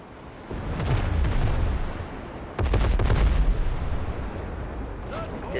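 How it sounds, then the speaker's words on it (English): Ship cannons fire in the naval game Windrose, heavy booming volleys in two main bursts with rumbling tails, loud and close, the second barrage louder and longer. "Oh, I can already hear the cannons going on."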